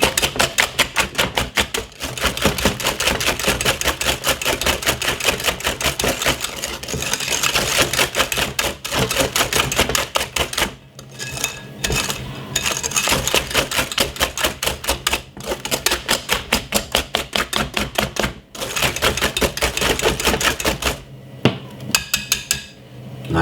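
A whisk beats mango sponge cake batter in a bowl, making rapid, steady rattling clicks that run in loud bursts with brief pauses between them.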